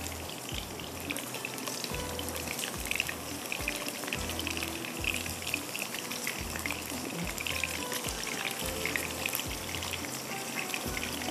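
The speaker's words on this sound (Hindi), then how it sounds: "अलग अलग से फ्राई करते हैं" Small pieces of garlic sticky rice fry separately in a pan, giving a steady, dense sizzle with a regular low pulsing underneath, close and continuous for the whole stretch with no talking.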